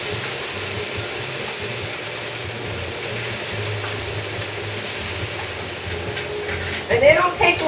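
Shrimp sizzle on a hot grill in a steady, even hiss that continues unbroken, with a few louder crackles and clatters near the end.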